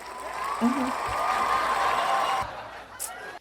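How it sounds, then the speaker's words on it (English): Canned cheering and laughter sound effects layered together, a steady crowd roar of applause and whoops lasting a few seconds before cutting off sharply, followed by a brief faint tail. "I just overlapped cheering and laughing because I meant to hit laughing, but I hit cheering."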